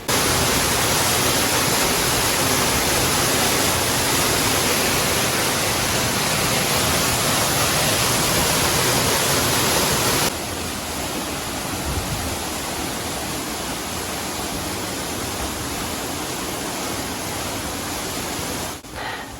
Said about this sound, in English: very top of the river pouring down into the Donut Falls